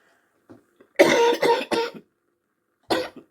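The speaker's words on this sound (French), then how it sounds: "excusez-moi pour cette toux intempestive" Several sharp coughs close up: a quick cluster of three, a pause, then one more cough.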